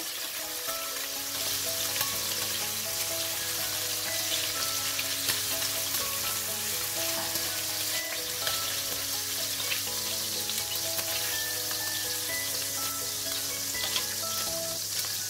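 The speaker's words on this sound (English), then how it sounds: "Prawns, they cook pretty fast, so I'm just going to give it a turn" Prawns frying in oil in a pan, a steady dense sizzle with a faint low hum underneath, close and continuous throughout with no talk.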